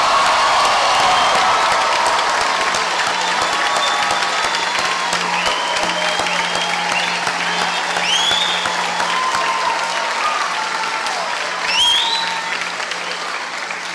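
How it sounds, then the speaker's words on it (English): A graduation audience gives loud, sustained applause with cheers and whoops rising over the steady clapping, a full crowd roar filling the whole stretch. "Show of applause"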